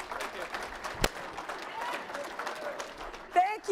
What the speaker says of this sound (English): So another big round of applause for them.